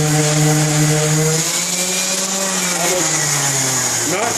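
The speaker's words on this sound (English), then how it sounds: "grab your sander and give it a light sanding" A power sander runs steadily against a cabinet face frame, a loud continuous whine that dips slightly in pitch as pressure shifts.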